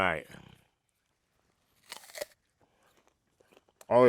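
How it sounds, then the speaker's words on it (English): A bite into a crisp, hard, sweet kid-size apple at a farm market gives a short crunch and chewing after speech. Talk is heard at the start and the end. "Take a bite. All right, now. Did you hear that crunch?"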